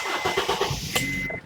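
A Honda Accord car engine cranks with a rapid stuttering whir, catches at about one second and settles into a steady idle with a faint high whine, heard close and fairly loud.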